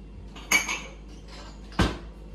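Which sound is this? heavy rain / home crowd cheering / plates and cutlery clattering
plates and cutlery clattering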